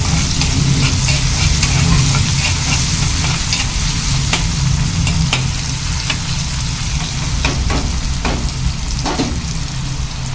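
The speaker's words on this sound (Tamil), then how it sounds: "சால்ட்டு போட்டு நல்லா மிக்ஸ் பண்ணிடுங்க" Tomatoes sautéing in a pan for a cauliflower fry while salt is stirred in, giving a steady close sizzle broken by scraping spoon strokes throughout, with no voices.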